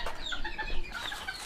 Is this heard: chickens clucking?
yes